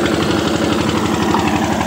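A 1992 Eicher 241 tractor engine runs loud and close with a steady, rapid thumping beat, pulling an 18-disc harrow.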